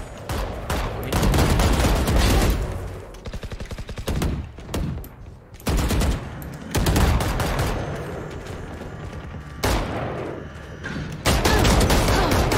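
Rapid bursts of gunfire from the Valorant deathmatch on the Ascent map, loud and close, with several separate volleys and sustained strings of shots.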